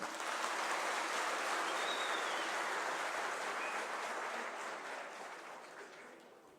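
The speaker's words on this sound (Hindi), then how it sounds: "माननीय मुख्यमंत्री महोदय के लिए, माननीय मंत्री महोदय के लिए जोरदार तालियां।" Applause from an audience at a Shimla event organised by a PTA regular teachers' union for the chief minister, a steady, fairly distant wash of clapping that gradually fades out.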